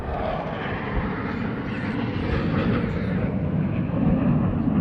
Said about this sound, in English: F-16's above us.